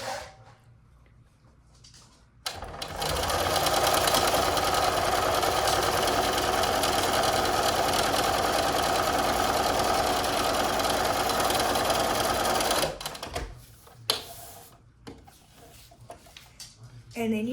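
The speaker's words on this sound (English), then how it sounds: "make sure you put your sewing machine at the smallest stitch they have" A sewing machine set to its smallest stitch sews a seam through paper for paper quilting, running as one steady, fast mechanical whir for about ten seconds, with talk before and after.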